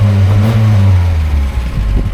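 A motorhome engine is blipped on the throttle nearby, a deep rumbling rev that rises and falls once, then settles into a lower idle.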